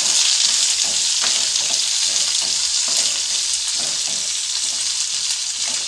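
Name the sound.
frying curry leaves, green chillies and onion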